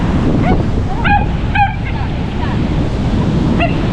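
Sea waves wash onto a beach shore on a windy morning, a steady loud broadband rush with wind buffeting the microphone, while a few faint dog barks or calls sound in the background.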